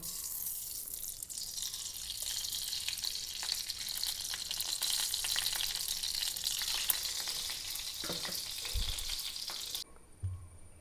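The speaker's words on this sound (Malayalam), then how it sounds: "തേങ്ങക്കൊത്തും വണ്ടിപ്പരിപ്പൊക്കെ നെയ്യിൽ നമുക്കൊന്ന് വറുത്തിടണം" Continuous crackling sizzle of cashews and coconut pieces frying in hot ghee, steady and close, with a few clinks of stirring near the end before it cuts off.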